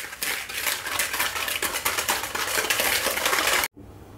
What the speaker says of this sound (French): je rajoute à présent mon sucre semoule et je vais fouetter pour blanchir en fait mes 2 éléments